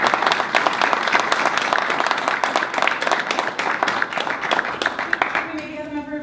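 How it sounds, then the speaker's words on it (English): A round of applause at a city council meeting honoring historical society members, brisk clapping from a modest crowd, fairly close and lively, with a voice starting to speak as the clapping tapers at the end. "all these people deserve a great round of applause"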